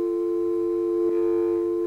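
A telephone busy signal sounds after a failed call-in to a radio program, a steady electronic tone held throughout, with a brief click partway through.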